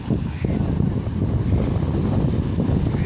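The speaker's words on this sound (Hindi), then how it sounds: "भाई, ये लहरें तो बहुत बड़ी बड़ी हैं।" Big ocean waves roll in at Hawks Bay Beach, a steady, loud wash of surf blended with gusty wind buffeting the microphone, continuous throughout.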